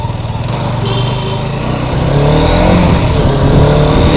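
A motorcycle cruises along a winding road, its engine droning loudly and steadily and swelling a little as it picks up speed, with heavy wind rumble throughout.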